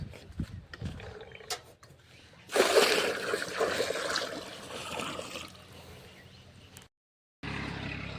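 Water gushing and splashing into buckets at a village water point in Gujarat, a loud rushing pour that runs for several seconds, then cuts off briefly before resuming.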